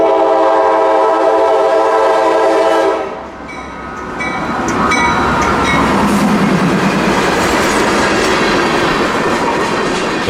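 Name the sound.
train passing a railroad crossing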